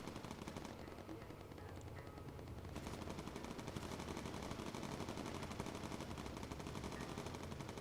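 Sustained machine gun fire rattles continuously in an aerial battle in the Bomber Crew game, a gunner shooting into the underbelly of an attacking aircraft, with dense rapid bursts that stay loud and close throughout.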